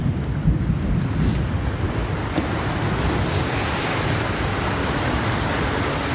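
A loud, continuous roar of rushing floodwater fills the whole clip, dense and unbroken, with a low rumble underneath.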